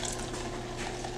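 A pot of Kerala beetroot buttermilk gravy with ground paste bubbles steadily at a boil, a dense, even simmering hiss up close with no pauses.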